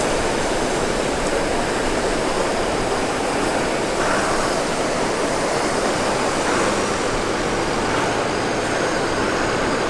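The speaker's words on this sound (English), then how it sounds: "There's big waves that come up every now and then on that bank at the back there." Heavy, continuous roar of big ocean waves breaking on a sandbank at St Lucia, a broad unbroken wash of surf with slight swells in intensity and no voices.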